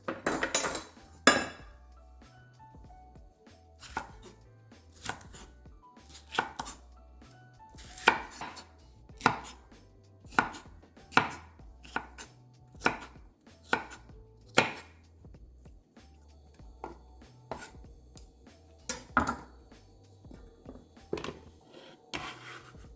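Peppers being chopped with a knife on a cutting board, a long run of sharp, uneven thuds, some in quick pairs and clusters, close and clear over a quiet kitchen background without speech.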